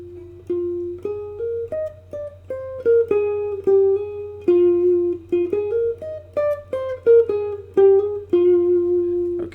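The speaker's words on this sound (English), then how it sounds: "the next part of this little solo sounds like this" Lead guitar plays a short melodic solo line from a song, with picked single notes and small slides in a quick, uneven rhythm, close and clean over a faint low hum, with no voice.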